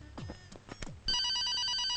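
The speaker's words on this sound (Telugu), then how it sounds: "నాకు ఫోన్ వచ్చింది." After a second of quiet shuffling and knocks, a telephone bell starts ringing with a steady, bright electronic trill that carries on at moderate loudness to the end.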